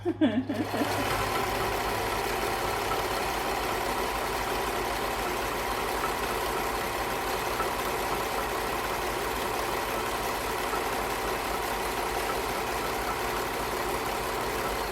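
A sewing machine stitches fabric for a box stitch, a steady close whirring hum running without pause after a brief start.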